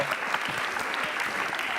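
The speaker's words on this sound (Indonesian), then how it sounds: "tepuk tangan buat mereka dong" Short burst of steady crowd applause on a game show for contestants who blew up balloons, with a soft murmur of voices mixed underneath.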